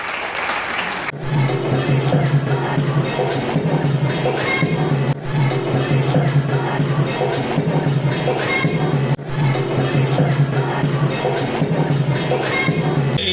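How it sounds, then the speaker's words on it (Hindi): Audience at the fifth foundation ceremony of the Samvedna Group NGO in Auraiya clapping loudly and steadily, a dense crowd applause that runs on with a few brief dips. "एक बार और तालियां मेरे निवेदन पर"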